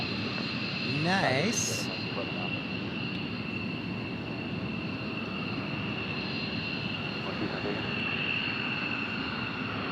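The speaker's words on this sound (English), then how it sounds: "So yeah, military aircraft," Loud, steady roar of a military aircraft engine at Tucson International Airport at sunrise, a broad continuous rumble with a faint whine, heard near and constant while a voice briefly speaks over it.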